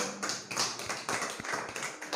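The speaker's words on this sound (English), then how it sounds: "Let's clap for him also." Classroom clapping for a student in an English lesson, a loose run of claps and taps across the clip, moderately close with no talk over it.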